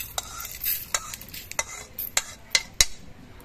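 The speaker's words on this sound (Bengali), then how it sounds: "5 ফোড়ন আর জিরেটা বেশ ভালো মতো ভাজা হয়ে গেছে।" Panch phoron and cumin seeds in a wok give a soft background sizzle, punctuated by a series of sharp metallic scrapes and clinks as a spatula stirs the spices.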